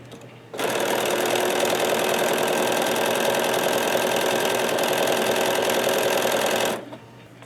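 A sewing machine runs in one continuous burst, stitching straight off one fabric and onto a scrappy fabric piece, a loud, close, steady mechanical whir of about six seconds that starts and stops abruptly, with no talking.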